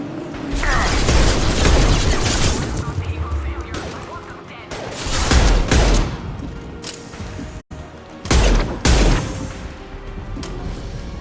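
Sci-fi firefight from Mass Effect 2, with repeated bursts of weapon fire and heavy booming impacts that come in loud clusters, briefly cut by a dropout, with a voice speaking amid the combat.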